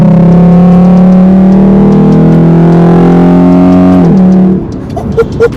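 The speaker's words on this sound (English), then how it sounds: "Get a little downshift going." A V6 2020 Jeep Grand Cherokee fitted with an MMX throttle body and K&N cold air intake drones loudly and steadily, then the engine note drops abruptly as it downshifts and fades to quieter rumble.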